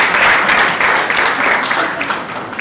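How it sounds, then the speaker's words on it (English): Sustained applause from an audience at a banking and finance institute graduation ceremony, a dense, steady wash of many hands clapping together that fills the whole stretch at strong volume. "Can we give ourselves another big round of applause?"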